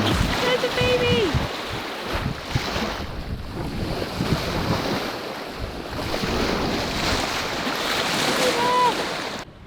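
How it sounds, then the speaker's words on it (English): A sailing boat heading into Port Stephens moves through waves, with steady rushing water and wind buffeting the microphone. Faint whistling calls are heard near the start and end. "We're sailing into Port Stephens."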